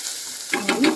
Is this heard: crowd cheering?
no